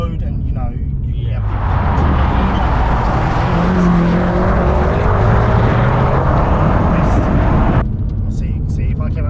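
A Stage 2 tuned BMW M5 of about 680 bhp drives through a corner under half throttle, a loud, close engine drone with shifting pitch under steady wind and road roar, while people talk.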